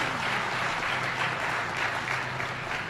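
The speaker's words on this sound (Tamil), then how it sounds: "ரசித்து ரசித்து கைத்தட்டுகிற கூட்டத்தை நான் திருவள்ளூரில் தான் பார்க்கிறேன்" A crowd at a Tamil public speech in Tiruvallur breaks into steady, moderately loud applause, a continuous wash of many hands clapping without speech.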